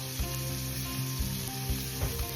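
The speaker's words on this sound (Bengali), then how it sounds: "মাছের পিসগুলো প্রথমে ভেজে নেব এপিট ওপিট করে।" Pieces of fish frying in a pan as a summer dish with raw mango is prepared, giving a steady close sizzle with a few soft scraping or turning knocks.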